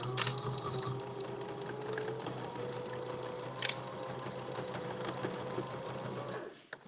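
A sewing machine stitches forward and backward on a fabric lanyard, a fast, steady whirring hum with brief pauses and faint clicks, heard close up and fairly quiet.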